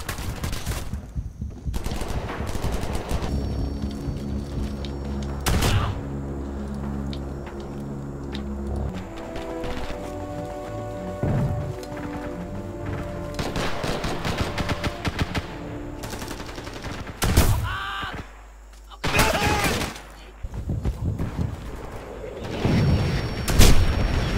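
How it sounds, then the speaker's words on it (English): Fire support strikes in the Rising Storm 2: Vietnam video game: sustained machine-gun bursts mixed with heavy artillery booms and loud explosions, dense and close, with scattered blasts and gaps toward the end. "Fire support inbound."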